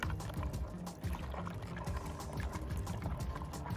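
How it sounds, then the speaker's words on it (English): Freshly harvested potatoes washed in water, a continuous close sloshing and pouring splash with small knocks, fairly quiet and with no talking. "now let's wash the potatoes"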